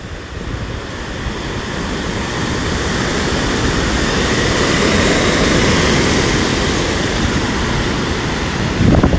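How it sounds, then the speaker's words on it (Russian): Storm surf pounds the Black Sea shore along the central embankment in Sochi, with wind and rain: a dense, continuous roar of breaking waves and gusting wind close to the microphone, swelling slightly toward the end. "Это шторм на Черном море в Сочи."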